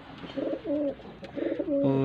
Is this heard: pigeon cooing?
yes